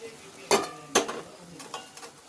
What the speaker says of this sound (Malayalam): ഇതൊന്ന് നല്ലോണം ഒന്ന് ഇളക്കണം.